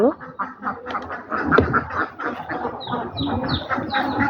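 Domestic deshi ducks let out of their shelter quack in a busy, overlapping chorus nearby, with calls continuing throughout.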